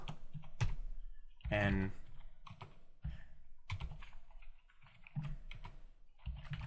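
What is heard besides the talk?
typing on a computer keyboard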